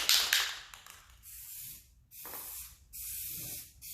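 A spray can of high heat paint hisses in several bursts onto a Polaris 600 XC snowmobile exhaust, with a loud opening burst, short gaps between sprays and no voices.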